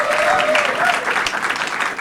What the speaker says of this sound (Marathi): एकदा जोरदार टाळ्या पॅनलसाठी भाई